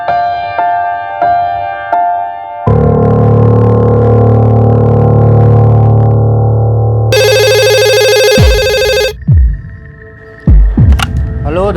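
A telephone call to a spare parts workshop rings through an earpiece as a series of loud electronic tones and a ringtone melody, with short pauses between segments.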